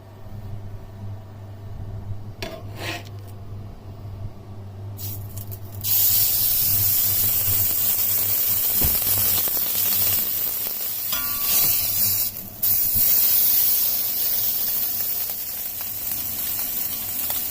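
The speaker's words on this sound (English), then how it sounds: "We're gonna grill in high heat and then make every part color." Sous vide roast beef, already cooked through inside, is seared on every side in a very hot pan. A loud, steady sizzling hiss takes over partway through and stays continuous, with no voices.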